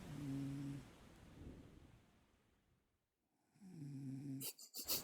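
A dog snores in The Ratline video game, two drawn-out rumbling breaths separated by a silent pause, quiet and close, with a sharper burst of noise at the end.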